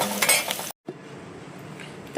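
Red lentils going into a hot pan of frying onion and dried chilli, giving a soft crackling sizzle with a brief stir and clink, a short gap of silence, then a quieter steady sizzle.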